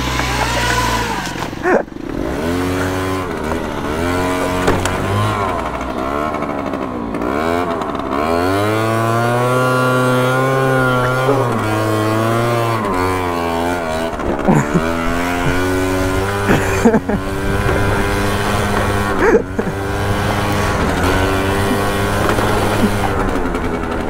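A Chinese scooter engine screams at full throttle, its high buzzing note climbing and dipping as it revs hard and continuously, loud and close, with only brief gaps where the pitch drops before surging again.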